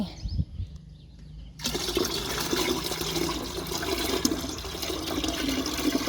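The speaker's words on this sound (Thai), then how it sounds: "เดี๋ยววันนี้ก็จะเทลงใน บัวรดน้ำนะคะ" Rice-washing water pours into a watering can meant for eggplant plants, a steady close splashing gush that starts after a quiet moment and runs continuously with no talk.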